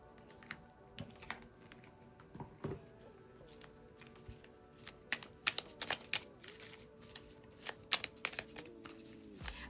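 A deck of cards shuffled by hand gives faint, irregular clicks and soft slaps in scattered bursts, close by and quiet.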